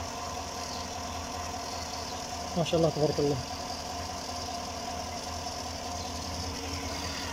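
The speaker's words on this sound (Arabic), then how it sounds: "او اسمعوا صوت المحرك." A car engine idles with a steady low rumble throughout, with its air sensor unplugged, while someone speaks briefly in the middle, close by.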